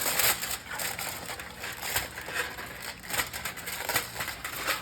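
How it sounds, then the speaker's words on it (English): Aluminium foil peeled off a sheet pan, a close crinkling, crackling rustle continuing throughout with bursts of louder crumpling. "we're gonna go ahead and peel that foil. Look, it just comes right off"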